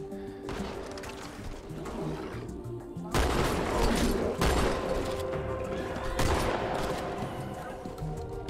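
Gunfire in Halo 2 (MCC campaign): bursts of rapid automatic shots crackle loudly at close range over a steady droning background, starting and stopping in several volleys, with some talking underneath.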